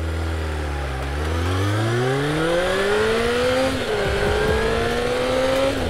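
A Kawasaki ZR-7 750 motorcycle engine revs high while riding, its loud steady drone climbing in pitch through the gears, close and continuous, with a brief spoken word from the rider.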